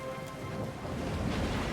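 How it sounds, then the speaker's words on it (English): Storm at sea in the fantasy role-playing game Pillars of Eternity II: Deadfire, with rain lashing a listing ship, a dense rushing wash of rain and low thunder rumble, steady and moderately quiet. "The storm picks up, lashing your ship and driving you dangerously close to a rocky shore."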